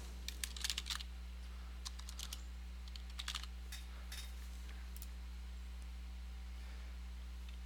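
Fingers tap on a computer keyboard in short, quick bursts of clicks with pauses between, faint and close against a steady low electrical hum.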